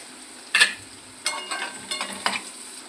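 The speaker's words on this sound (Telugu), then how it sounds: "ఆనియన్స్ కూడా వేయాలి ఫ్రెండ్స్. ఇది కొంచెం వేగినాక సాల్ట్ వేసుకోవాలి." Onions frying in a pan for a meal maker curry, a quiet sizzle broken by several crisp stirring scrapes and clinks close up, no talking.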